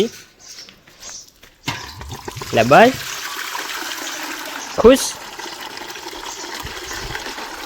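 Water poured to fill a gagar water pot, heard as a few short splashing gushes between quiet stretches, with people talking over it.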